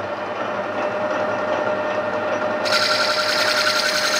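A metal lathe facing the face of a 3/4-inch-thick gear blank runs steadily and loudly, a continuous mechanical drone with a tonal hum and a brighter high whine that steps up partway through.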